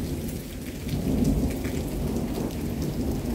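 A steady rain pours down while thunder rumbles low and continuously in the background, no voices.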